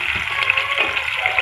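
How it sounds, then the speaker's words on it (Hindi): Onions drop into about a cup of heated cooking oil and sizzle, a bright crackling hiss that fills the short moment without talk. "अब इसके अंदर प्याज डालती हूँ।"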